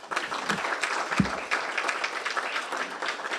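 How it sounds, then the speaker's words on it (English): Audience at a club forum on law enforcement and mental health applauds the speakers, a steady, moderately distant wash of clapping that holds throughout, with a soft thump early on. "Please give our speakers a round of applause."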